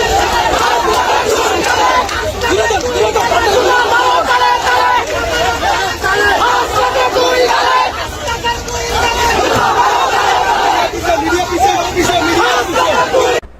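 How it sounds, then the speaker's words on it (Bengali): A crowd in Debidwar chanting rhythmic slogans against Hasnat Abdullah: loud massed voices shout in time for the whole stretch, with steady crowd babble underneath. "দেবিদ্বারে তার বিরুদ্ধে স্লোগান হয়েছে, হাসনাতের 2 গালে জুতা মারো তালে তালে"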